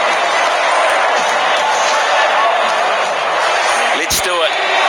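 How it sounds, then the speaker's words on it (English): Polite applause from the members at Lord's cricket ground during the 2019 World Cup final super over. Steady, even crowd clapping runs throughout under commentary talk, with a brief sharp knock near the end. "The polite applause from the members here at Lord's"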